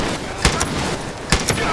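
Two sharp gunshots in Far Cry 5, one headshot, cracking out about a second apart over a steady bed of loud game noise, each short and punchy.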